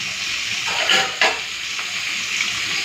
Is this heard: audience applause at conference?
no